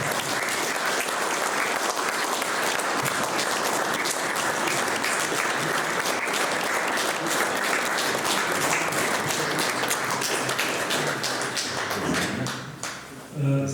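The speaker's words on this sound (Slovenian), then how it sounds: "Predlagam, da zaploskamo našim trem izvajalcem" Audience applause for three speakers at a veterans' association gathering with a 106-year-old partisan, a long, dense, loud wave of clapping that holds steady before tapering and breaking off near the end.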